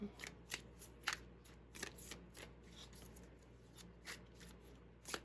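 A deck of tarot cards is shuffled close up, quick papery riffles and slaps in irregular bursts over a quiet background.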